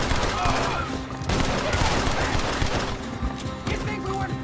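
Gunfire in the video game Red Dead Redemption 2, dense, continuous volleys of overlapping shots with no letup, loud and close.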